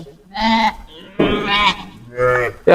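Three loud, close sheep bleats from a flock of ewes with lambs, each drawn out and quavering, separated by brief pauses.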